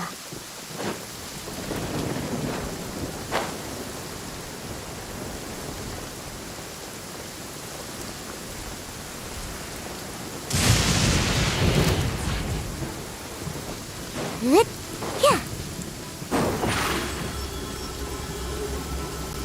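A steady rain falls throughout, with a loud nearby thunderclap crashing midway and a few lighter rumbles and crackles afterward, no voices.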